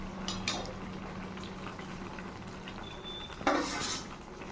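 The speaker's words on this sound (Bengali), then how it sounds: "এবার দিয়ে দেব এখানে ভেজে রাখা ভেন্ডি।" Fried okra (bhindi) is tipped into a pot of simmering Bengali mixed-vegetable niramish, giving a few soft clinks of a utensil against the metal pot over a faint bubbling, with a louder clatter and splash near the end.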